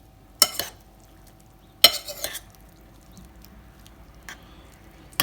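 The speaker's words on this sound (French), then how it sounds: "il suffit tout simplement de mélanger le plat. Voilà, vous mélangez bien le plat." Spoon stirring a rehydrated dehydrated pasta meal in its container, a few soft scraping swishes and light clinks separated by quiet gaps.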